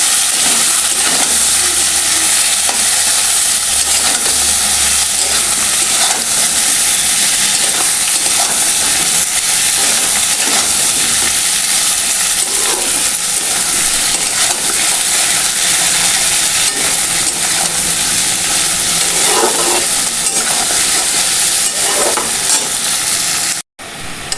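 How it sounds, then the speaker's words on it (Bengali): Chopped onions frying in oil alongside browned potatoes, a loud, unbroken sizzle lasting many seconds, broken by soft scraping stirs of a spatula, close up and without voices. "পেঁয়াজটা দিয়ে ভালো করে নেড়ে চেড়ে একটু লাল করে নেব"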